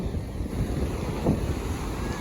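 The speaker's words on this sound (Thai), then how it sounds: "ลมแรงขึ้นแรง" Strong wind roars steadily at the Baltic seashore at Prerow, Germany, a constant loud rush of noise with a faint wash of surf beneath it.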